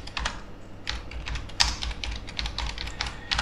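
Rapid, steady clatter of keys on a computer keyboard while a command is entered in a Linux terminal, close and clear, with no voices.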